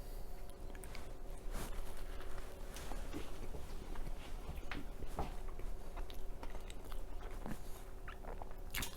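Close biting and crunchy chewing of a biscuit spread with muscadine jelly, with repeated soft crunches and mouth sounds.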